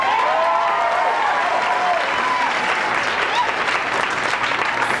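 A comedy club audience at a New Year's show at the Improv applauds and cheers, a dense continuous wash of clapping with voices and whoops mixed in throughout.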